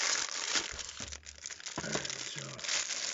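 Plastic toy packaging for a G.I. Joe Classified Cobra Eel figure being handled as tape is pulled off, with close crinkling and tearing bursts broken by short pauses, and faint talk underneath.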